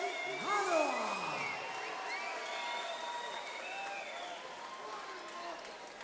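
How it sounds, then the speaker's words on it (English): Crowd at a UK MMA event applauds and cheers hometown London fighter Jimi Manuwa. The steady applause runs throughout beneath a commentator's voice. "Hometown boy getting a lot of applause here, as you would expect"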